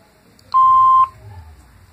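A single electronic answering machine beep, a steady clear tone lasting about half a second, loud and isolated against quiet background.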